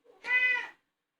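A house cat gives a single clear, drawn-out meow, close and fairly loud, with a faint stir just before it and silence after.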